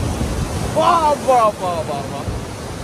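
Ocean surf at a beach in Vizag rolls and hisses steadily under gusty wind noise on the microphone, while voices briefly speak over it.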